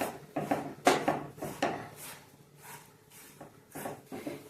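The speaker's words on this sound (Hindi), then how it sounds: "धीरे धीरे चलाते चलाते इसको मिक्स करेंगे हम और ये बहुत अच्छे से मिक्स हो जाएगा" A dry paste of peanuts, chana dal and sesame being stirred and mixed for sugar-free ladoo, a series of scraping, rubbing strokes of a spoon against a pan, uneven in rhythm, close and fairly quiet.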